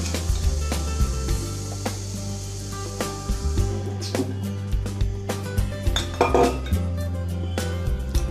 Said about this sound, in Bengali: এখন আমি প্রেসার কুকারে ঢাকনাটা বন্ধ করে দেব।